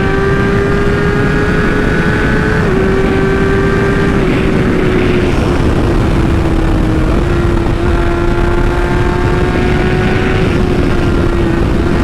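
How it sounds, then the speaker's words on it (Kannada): Loud, steady motorcycle engine drone from a Kawasaki Z900 passing by below, a sustained buzzing hum that swells slightly and shifts pitch a little, with no talking. "ಅದು ಒಂದು Z900 ಹೋಗ್ತಾ ಇದೆ ಕೆಳಗಡೆ"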